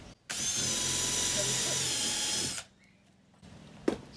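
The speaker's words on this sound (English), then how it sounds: "now we're just drilling through the wall" A power drill bores through the wall of a van during a camper build, a loud steady whine lasting about two seconds before cutting off, followed by quiet handling noises and one sharp click.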